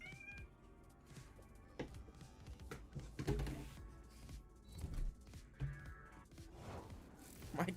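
A house cat meows several times in short, separate calls amid soft thumps and rustling on a desk.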